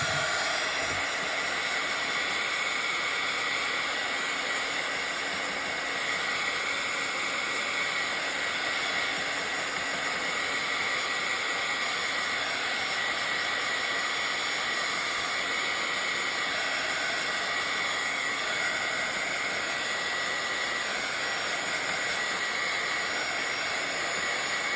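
A dryer blowing steadily on a Bible journal page, a constant loud whooshing hiss with a whining tone that holds unchanged throughout.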